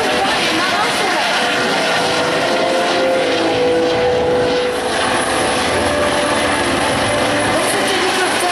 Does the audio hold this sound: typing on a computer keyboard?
no